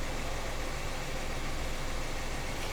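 A Maruti Alto car engine runs at idle, heard from a fixed distance as a steady, even rumble with broadband noise and no talking.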